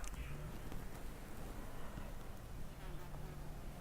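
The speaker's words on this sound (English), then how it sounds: "There's some bees working away on the marigolds." Bees buzzing as they work over marigolds in an autumn vegetable garden with tomatoes and strawberries, a faint, steady insect drone that runs throughout at a distance with no talking.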